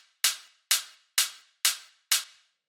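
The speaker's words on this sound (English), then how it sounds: "the next layer we've got here is the second hi-hat, which is made of 2 layers" A raw, hard techno hi-hat built from two layers hits five times at a steady pace, each a bright, noisy burst with a short decaying tail, played alone and fairly close.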